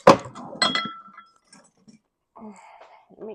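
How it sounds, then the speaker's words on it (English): A whisk clinks against a glass bowl while dry ingredients with a pinch of salt are mixed for a baked dessert: a few bright, close rattling taps at first, then near silence, and a voice briefly at the end. "Whisk our dry ingredients all together."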